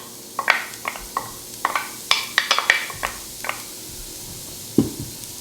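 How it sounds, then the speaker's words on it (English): Carrots and onions sauteing in about two tablespoons of hot extra light olive oil, with a soft sizzle under a series of sharp spoon clicks and stirring knocks against the pan. "we're going to saute the onions and the carrots"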